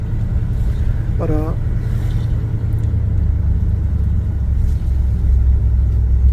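An old Chevy C10 pickup truck engine runs steadily from inside the cab, a constant low rumbling drone throughout, while someone speaks briefly over it.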